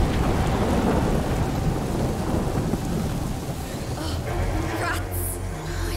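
A thunderstorm in the video game A Plague Tale: Innocence brings loud, close rumbling thunder over steady heavy rain. The rumble fades toward the end, leaving the rain.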